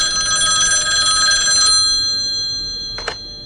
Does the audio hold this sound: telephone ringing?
yes